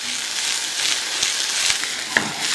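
Onions frying in ghee with garlic, ginger and chillies give a steady, close sizzle with a few faint clicks and soft stirring touches.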